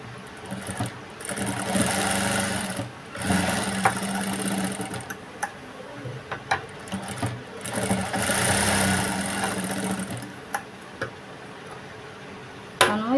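A sewing machine stitches a blouse in a steady motorized hum that runs almost the whole time, dipping briefly between bursts, with small clicks and taps of handling in between.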